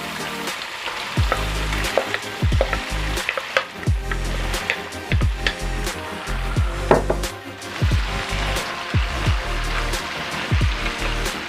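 Beef teriyaki and broccoli sizzle and crackle in a hot pan with juices, a continuous frying hiss broken by frequent sharp pops and stirring scrapes, close and fairly loud.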